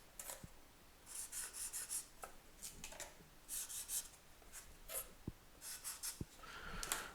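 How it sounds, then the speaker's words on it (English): Marker or pen drawing lines on a rotating paper tube mounted on a gear-driven holder: repeated short scratchy strokes in quick bursts, fairly quiet and close, with a few light knocks in between. "I'm going to draw some lines in the paper tube here."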